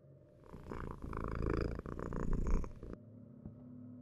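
Cat purring in a horror video game, a close, steady rumbling purr lasting a few seconds before stopping abruptly, leaving a low background hum.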